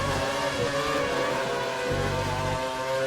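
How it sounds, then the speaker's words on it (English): Several race cars in the F1 2013 video game pull into the pits at the British Grand Prix, a steady engine drone with low rumbling surges, heard alone. "There are cars heading in, lots of them."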